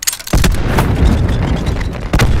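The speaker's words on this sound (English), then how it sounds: "You're going to see me throw a nade on the left, throw a nade on the right." Cluster grenades burst in Call of Duty Blackout, a loud sustained rumble of overlapping booms that starts abruptly after a brief quiet moment, with another sharp hit near the end.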